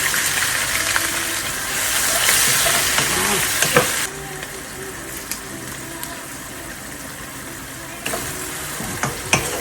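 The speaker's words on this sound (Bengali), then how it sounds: "এদিকে পেঁয়াজটা একটু ভালো ভাজা হতে থাকে, নরম হোক" Chopped onion fries in hot oil in a pan, giving a loud, steady sizzle with occasional stirring scrapes and clicks, with no voices over it.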